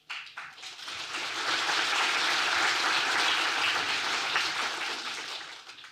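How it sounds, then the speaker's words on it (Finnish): A lecture audience applauds a speaker being introduced at a public university talk, a steady, dense crowd of clapping that swells quickly, holds for several seconds and tapers at the end, with no voices over it. "Ei kannata kyllä taputtaa ennen kuin olette kuulleet"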